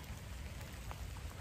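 Steady rain falls across a garden where cucumber and luffa plants grow, a dense continuous patter with a few brief louder drops, nearby and even throughout, no voices.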